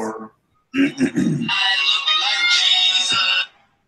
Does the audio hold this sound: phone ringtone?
yes